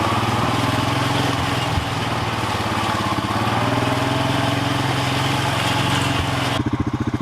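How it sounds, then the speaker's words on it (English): A tractor engine runs steadily and loud nearby in a wooded area where trees are being felled, its constant throbbing drone changing sharply to a pulsing, lower idle near the end. "bring the tractor down here and see if we can hook a strap up down here and just pull the tree out"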